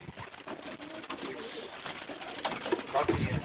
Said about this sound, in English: The little pigeon that I clocked a few weeks ago from Henry,